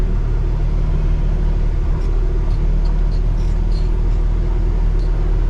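A truck engine, with its air built up, rumbles loud and close as it pulls away in a higher gear. The low drone is steady and continuous, with faint higher chirps above it and no talking.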